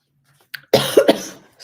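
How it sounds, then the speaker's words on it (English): A single close, harsh cough bursts out in a couple of rough spasms, preceded by a small breath, with silence around it. "Sorry about this cough"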